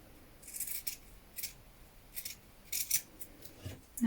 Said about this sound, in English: Now trim and clip into that facing.